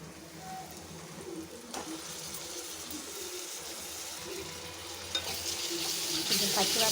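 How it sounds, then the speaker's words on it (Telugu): Onions browned in a pan with pounded ginger-garlic paste added for chicken masala curry, frying with a continuous close sizzle, spatula scrapes and stirring, the hiss swelling louder toward the end, no talking. "ఆనియన్స్ అయితే ఫ్రై అవుతున్నాయండి, అవనివ్వండి."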